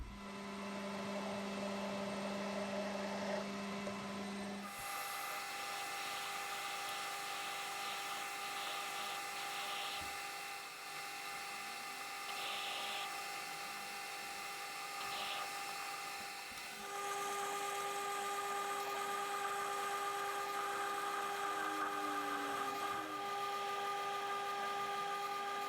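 A lathe bores out a bronze leadscrew nut for a Sheridan lathe, a steady machine hum with a high tonal whine that shifts pitch midway and continues without talk.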